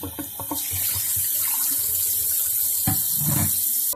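Cold water runs steadily from a faucet into a sink in Flint, Michigan, a constant close hiss with a few faint clinks and knocks.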